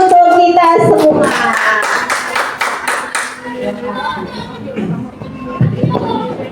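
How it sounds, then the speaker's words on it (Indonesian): Teachers at a school training session break into rhythmic clapping for a few seconds, loud and close, which fades as voices and room shuffling take over. "Tepuk tangan untuk kita semua."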